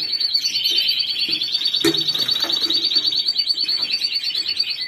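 Timbrado canaries of good breeding sing continuously, a close, bright stream of rapid metallic trills and rolling chirps with one sharp break midway, no voices present.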